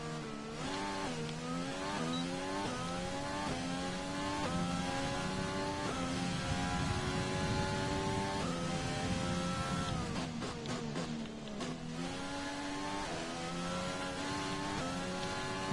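A Formula 1 car engine in the F1 2020 racing game, recorded at Bahrain, holds a steady high-pitched whine under throttle. Its pitch rises and dips repeatedly as the gears change, and a brief rougher patch comes near the end, with no voices.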